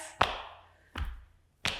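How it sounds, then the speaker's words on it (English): Hands slap the thighs during an energising qigong flow, three sharp, separate smacks spaced unevenly about a second apart, close and crisp against a quiet room. "Slapping the thighs"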